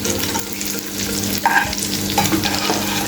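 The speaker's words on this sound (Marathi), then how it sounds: "मीडियम गॅसवरती आपण पलटी करून घ्यायचे ते क्रिस्पी होईपर्यंत व्यवस्थित असे हे आपण शॅलो फ्राय करायचे आहेत" Matar tikki cutlets shallow fry in oil in a pan, giving a steady close sizzle with occasional scrapes and a brief clatter as they are turned.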